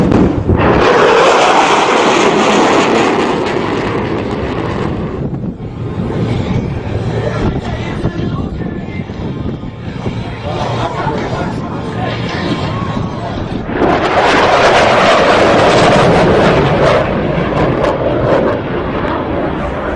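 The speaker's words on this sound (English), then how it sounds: "Super Hornet high-speed pass." F/A-18 Super Hornet jet making a high-speed pass: a loud roaring rush builds, eases, then surges again with a deep rumbling blast, mixed with wind buffeting and some talk.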